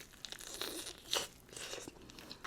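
Spicy buldak ramen is eaten up close, with soft crunchy bites and wet chewing and crinkling noises in quick irregular bursts, quiet and with no talking.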